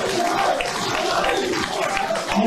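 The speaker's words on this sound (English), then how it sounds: "Applause in the whole room." Clapping and crowd noise from people gathered in a room swell in a steady, loud wash, with murmuring voices mixed into the applause.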